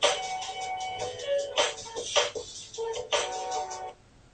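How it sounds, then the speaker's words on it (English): A phone rings with a bright, melodic ringtone that repeats its short pattern for about four seconds before cutting off. "I gotta answer the phone"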